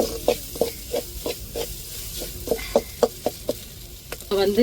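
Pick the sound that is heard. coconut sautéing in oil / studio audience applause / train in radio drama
coconut sautéing in oil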